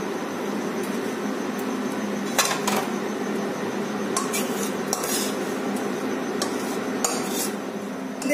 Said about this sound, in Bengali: এবার আমি একটা ডিশে এটাকে ঢেলে নেব।